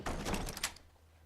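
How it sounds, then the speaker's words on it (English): A door swings open in the Fallout 4 video game, inside a Sanctuary house, giving one short, fairly close sliding thunk that fades within about a second. "He can just open the door, grab what he needs,"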